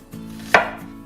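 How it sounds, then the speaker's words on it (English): A single crisp knife chop through onion on a cutting board, close and clear with no talk, as the onion is diced into cubes for Korean doenjang jjigae. "Then cut the onions into cubes."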